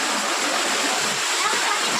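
Water runs continuously during bathing, giving a steady, fairly loud rushing splash with no break across the whole stretch.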